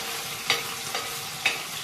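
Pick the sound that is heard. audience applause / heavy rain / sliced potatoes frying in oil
sliced potatoes frying in oil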